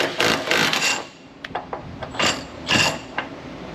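A socket wrench ratchets on the torsion bar key of a 4x4 truck, producing bursts of metallic clicking and rasping in short, uneven strokes close by.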